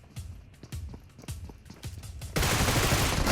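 Groza assault rifle fire in a shooting video game, first a series of separate sharp shots at an uneven pace, then a loud unbroken burst of rapid fire that runs to the end.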